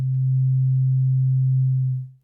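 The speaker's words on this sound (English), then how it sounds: "Now if I had a pure sine wave here" A pure sine wave from a Hydrasynth synthesizer holds one steady low tone at full level for about two seconds, then fades out quickly at the end.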